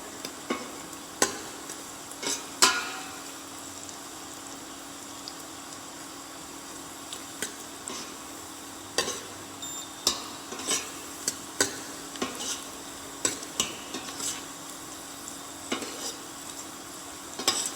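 Food roasting in good fat for a brown sauce gives a low, steady sizzle, broken by repeated sharp stirring scrapes and clinks of a utensil against the pan.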